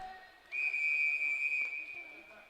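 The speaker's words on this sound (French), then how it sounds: "Et on siffle l'arrêt du jeu." A single long, steady referee whistle blast rings out over faint background crowd noise at a game, sustained for about two seconds before fading.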